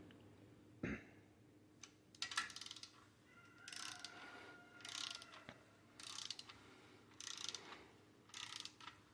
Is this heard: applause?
no